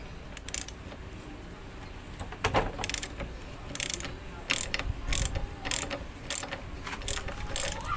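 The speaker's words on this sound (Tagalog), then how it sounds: "gumamit lang ako ng 19mm na socket wrench para sa nut at 14mm na closed wrench pangontra sa head nut" A 19mm socket wrench ratchets on the axle nut of a SYM Bonus 100 scooter. It gives quiet, close-up bursts of rapid clicking, separated by short pauses and light metallic handling noises.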